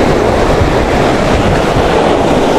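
Big sea waves crashing and surging along a shore in strong wind, a loud, continuous roar of surf with rumbling low end, no voices over it.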